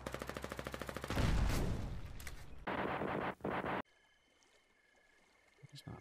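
Rapid machine-gun bursts in a Foxhole battle, a pulsing volley of shots followed by heavy roaring fire and a couple of sharp bursts, then a quieter stretch with faint distant pops.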